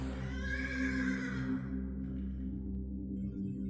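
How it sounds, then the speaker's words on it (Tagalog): A horse lets out a single loud, close whinny that rises and then trails off, over a low steady hum. "nung may narinig ako na halinghing ng kabayo"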